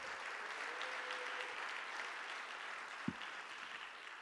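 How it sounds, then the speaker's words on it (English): Faint, distant applause at a Martin Luther King Jr. Unity Day event, a soft steady patter of clapping with one sharp knock partway through. "Can we give them a round of applause too,"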